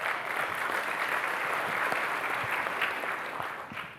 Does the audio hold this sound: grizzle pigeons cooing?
no